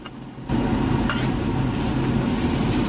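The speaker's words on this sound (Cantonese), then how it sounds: "咁我哋就揾鑊鏟將佢快炒一陣" Pork slices are stir-fried in a wok with a spatula: a loud, continuous sizzle and scraping starts abruptly after a short pause, with a sharp metallic clink partway through.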